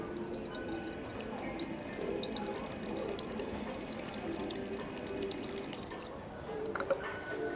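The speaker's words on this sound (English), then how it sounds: "Oh, water fountain." Water runs steadily from a public drinking fountain on a busy Friday-night street in Taipei, a continuous close splashing stream with faint drips and distant background noise, almost no talking.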